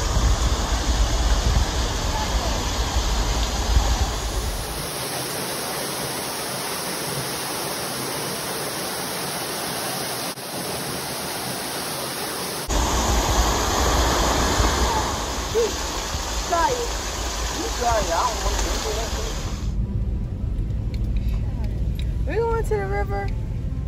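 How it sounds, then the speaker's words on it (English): A flowing river in Puerto Rico gives a steady, loud rushing wash that fills the whole clip, with voices nearby. "we got another river, you guys"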